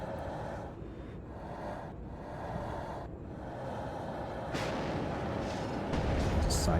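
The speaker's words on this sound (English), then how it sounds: "There you guys see some of our artillery coming in." Artillery fire lands in the military strategy game WARNO as a dense, continuous rumble of distant booms and blasts that grows louder toward the end.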